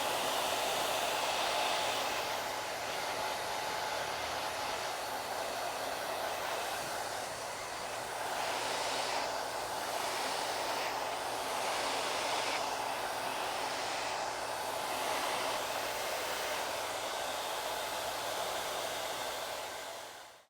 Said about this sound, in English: then I'm going to start to blow dry the hair and create like a wrap this way to really just smooth it out